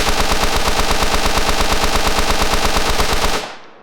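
A rapid, continuous burst of automatic gunfire in a video game, loud and close, rattling evenly for several seconds before cutting off abruptly into a short tail.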